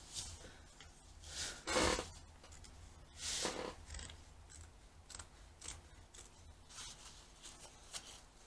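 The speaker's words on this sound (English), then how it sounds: "then you need to cut on that cutting line that's in the middle" Scissors snip through fabric while cutting out a fold-over backpack pattern, a series of crisp close cuts in short bursts with pauses between, and faint rustling of material in the gaps.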